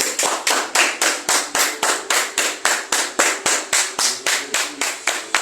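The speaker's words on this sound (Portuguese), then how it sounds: "Vamos dar uma salva de palmas ao Senhor Jesus Cristo, porque Ele merece." A church congregation applauds together in a steady, rhythmic unison clap, about three claps per second, loud and close throughout with no talking over it.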